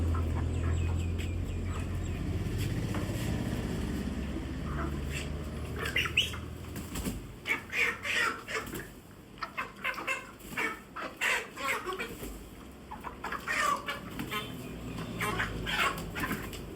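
Chickens clucking and squawking nearby, with bursts of flapping wings and scuffling after a low, rumbling stretch at the start, the calls coming in irregular clusters.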